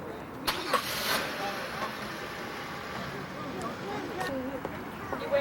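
A car engine starts near a family gathering, a short cranking burst followed by a low idling hum, heard under children and adults chattering and a few sharp knocks.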